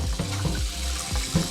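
Water pours and splashes steadily while a jar is rinsed out at a kitchen sink, a continuous close rushing with small surges.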